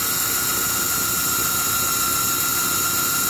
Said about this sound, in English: So then we're just going to drill this out.